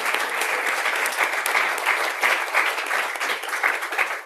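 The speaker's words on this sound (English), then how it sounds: "A little bit of applause." A conference audience gives a burst of applause after a panel on occupational safety and health in the age of artificial intelligence, with loud, dense clapping that stays strong and unbroken throughout.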